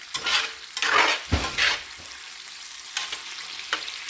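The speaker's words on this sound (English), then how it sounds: "they're frying pretty good here" Breakfast food sizzles and crackles in a big hot iron pan, with scraping and stirring bursts scattered throughout, close and moderately loud.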